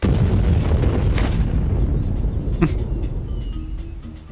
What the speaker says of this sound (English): That was quite the explosion.